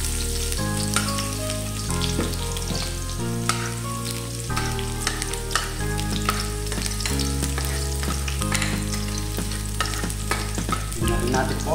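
Garlic sizzles loudly in hot cooking oil for a squid sauté with oyster sauce, with scraping stirs over a steady fry and tonal background music throughout.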